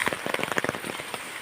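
Rain falling in a heavy, close patter of dense drops hitting a surface, loud and continuous with no voices.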